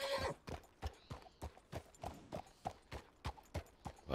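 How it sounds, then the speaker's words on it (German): A horse trotting, its hooves striking in a steady, even clip-clop rhythm of about two to three beats per second, close and clear with no talk over it. "Wir werden jetzt mal ein bisschen das Pferd antreiben."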